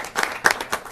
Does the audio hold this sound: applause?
yes